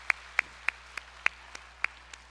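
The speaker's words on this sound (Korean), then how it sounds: "하나님께 우리 감사의 박수 한번 드립시다" A few sharp, evenly spaced hand claps, about eight in all, from a church congregation during a Sunday worship service, fairly faint and with no voices.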